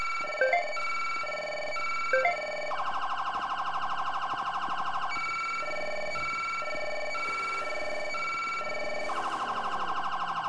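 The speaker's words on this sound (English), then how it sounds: "Somebody kill them sirens out." Police car sirens in a video game roleplay wail steadily and loudly with rising and falling tones, several overlapping, alone without talk.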